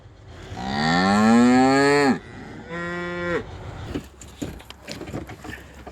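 Cattle waiting for ground grain chop on a farm give a long, loud close moo, then a shorter second moo, followed by scattered knocks and rustling.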